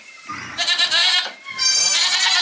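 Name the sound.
young kid goats bleating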